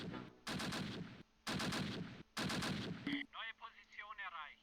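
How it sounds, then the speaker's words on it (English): Rifle fire in the Close Combat World War II strategy game, three loud sustained bursts of rapid gunfire with brief gaps, followed by a faint tonal warble and quieter shots. "Rifle fire."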